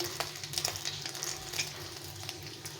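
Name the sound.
oil sizzling in a pan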